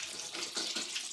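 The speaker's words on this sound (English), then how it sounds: "So I'm just going to strain that out" Salted soaking water poured off eggplant through a strainer, a brief close splashing trickle of draining liquid.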